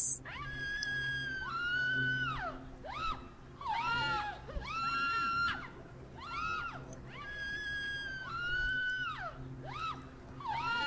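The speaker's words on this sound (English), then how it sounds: "Oh my god, stop screaming." Creatures scream in the video game The Sandman, a run of high, wavering wails that rise and fall over about eleven seconds with short gaps between them, loud and close.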